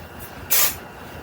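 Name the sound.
hairspray being sprayed on hair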